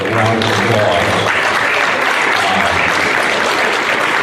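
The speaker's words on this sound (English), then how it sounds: "let's give Vince a round of applause." Loud, dense applause from a crowd at a county political forum, a continuous wash of clapping with no pauses through the short stretch.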